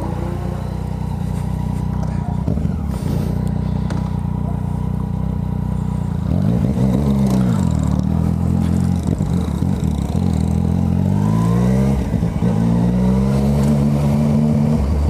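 A Yamaha MT-09 motorcycle is ridden, its engine droning loud and close throughout, rising and falling in pitch as it accelerates through revs, with a rider talking over it.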